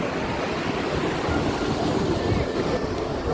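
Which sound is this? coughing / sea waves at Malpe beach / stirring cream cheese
sea waves at Malpe beach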